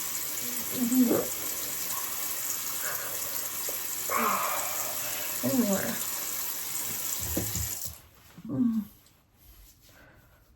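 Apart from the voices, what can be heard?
tap water running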